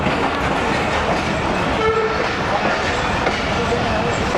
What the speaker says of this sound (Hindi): उधर कोई ट्रेन भी है दूसरी साइड पे